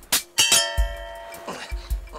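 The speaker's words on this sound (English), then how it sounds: "They eventually get him up with a ding of the bell, and Valerie's on board." A bell from the Far Cry film gives a few bright metallic dings with a ringing tail, then lower thuds and clanks follow close by.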